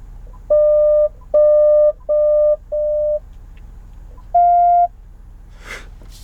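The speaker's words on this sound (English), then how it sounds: "the front park sensors. Rear park, high, medium." Front parking sensor chime in a 2019 Dodge, five loud, clean electronic beeps at a steady pace, the last one higher in pitch, with a faint rustle afterward.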